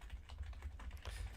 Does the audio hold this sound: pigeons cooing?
no